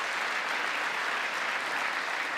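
Audience applause from a crowd, steady and dense clapping filling the whole moment without a break, no voices on top.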